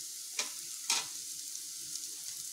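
Onion frying lightly in a pan with spices such as turmeric and coriander powder: a faint, steady sizzle broken by two brief louder crackling bursts, with no talking.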